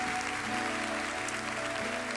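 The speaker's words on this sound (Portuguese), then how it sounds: "Você pode aplaudir ao Senhor." A church congregation claps together in a brief, even spatter of applause at a Portuguese-language service, while sustained organ or keyboard tones ring underneath.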